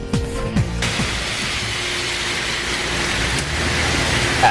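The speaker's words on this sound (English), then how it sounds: "The rain came down hard in Little Rock earlier today." Heavy rain falling in Little Rock, a dense, steady hiss of downpour that stays loud and even throughout, with a brief low rumble at the start.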